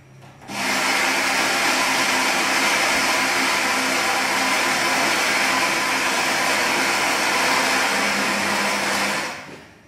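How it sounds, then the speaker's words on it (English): A Saeco XSmall coffee machine's ceramic conical burr grinder grinding coffee, a loud steady whirring drone that starts abruptly, holds evenly for about nine seconds, then cuts off. "this little model is equipped with a ceramic conical burr grinder"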